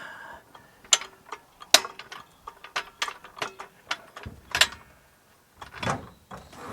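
Jack being pumped to lift a car body during a restoration, with a series of sharp ratcheting clicks and clanks in an irregular rhythm close by.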